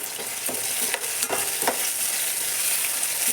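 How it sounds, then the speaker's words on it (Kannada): Spiced mixture with garam masala, turmeric and salt frying in a pan, a steady close sizzle broken by scraping stirs of a spoon at irregular intervals, no talking. "ಚೆನ್ನಾಗಿ ಫ್ರೈ ಆಗಲಿದು ನೋಡಿರಿ ಫ್ರೈ ಆಯ್ತು"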